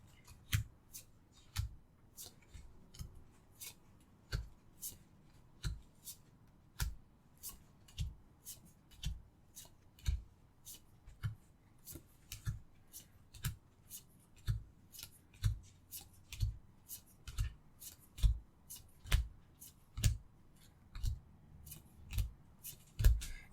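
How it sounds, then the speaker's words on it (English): Tarot cards being shuffled and laid out, a slow, fairly regular series of crisp snaps and soft slaps, close and quiet, repeating every second or so with no talk. "You all can hear me shuffling and laying out the cards as we do this."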